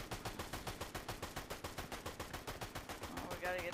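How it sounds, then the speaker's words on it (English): Rapid bursts of video game gunfire rattle in a steady automatic rhythm, fairly close and loud, with players shooting straight ahead in a battle royale match and a brighter tonal game sound rising near the end. "there's people shooting straight ahead of us"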